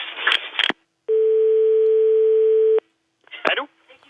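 A steady telephone dial tone hums for nearly two seconds while a call is placed to a pharmacy, with the line clicking open and shut on either side. Short bursts of talk come before and after it.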